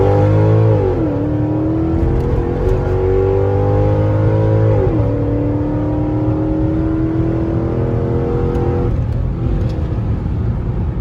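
A Mercedes CLS55 AMG makes a fast acceleration pull on a road in Mexico. A loud supercharged engine note climbs through the gears, with two clear shift dips before it settles into a strong, sustained drone.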